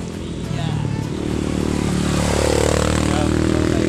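Several motocross motorcycles jump along a mountain trail, their engines droning and rising loudly and steadily throughout, with scraping and clatter, while people talk over the noise.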